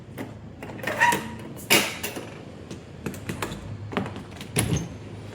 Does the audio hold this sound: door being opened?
yes